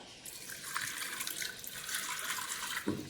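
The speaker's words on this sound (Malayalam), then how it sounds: "കുറച്ച് വെള്ളം ഒഴിച്ച് കൊടുക്കണം." Water is poured from a vessel into a pressure cooker holding pieces of yam, a soft, continuous splashing trickle that is fairly faint and heard alone.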